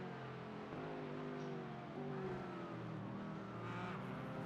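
A Porsche GT4 race car in an Xtreem GT4 race, its engine droning steadily through corners with rising and falling pitch as it shifts, heard alone at a moderate, continuous level.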